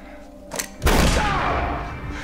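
A single sharp gunshot cracks out loud and close, followed by a dense, booming tail that lingers and slowly decays, preceded by a brief small click or knock.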